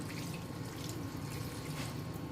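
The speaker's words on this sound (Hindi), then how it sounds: "अब इसमें मैं थोड़ा सा पानी डाल दूंगी ताकि चिकन भी गल जाए और टमाटर भी हमारे सॉफ्ट हो जाए।" Water poured into a pot of chicken and tomato curry for tinday gosht, a steady close trickling and splashing that runs the whole time at moderate level with no talk.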